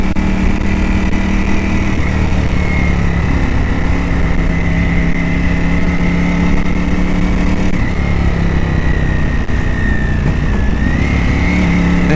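A Ducati motorcycle engine hums loudly and steadily while riding around Akuna Bay and West Head near Sydney. The drone is continuous, with slight pitch shifts as the throttle changes, mixed with wind noise and no speech.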